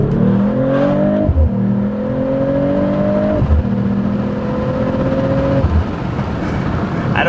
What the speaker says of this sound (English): Let me give you another exhaust note.